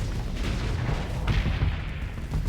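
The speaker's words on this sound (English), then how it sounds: "I want to see that Terra Cannon fire." A Terra Cannon firing in the space combat game Starsector during a tournament match, heavy booming cannon blasts thudding over a dense rumbling wash of battle noise, loud and continuous.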